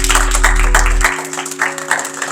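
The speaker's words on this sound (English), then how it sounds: "Can we give Lynn one more round of applause?" An indoor audience at a city hall governance training applauds the city clerk, Lynn: a short burst of clapping from many hands that thins out toward the end, over a low steady hum.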